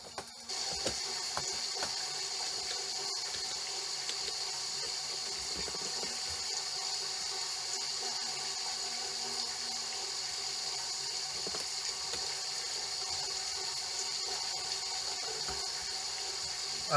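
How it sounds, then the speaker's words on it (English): Shower water running steadily in My Summer Car, a continuous broad hiss of spray held at an even level for the whole stretch, with faint clunks underneath and no talking. "Might as well have a shower."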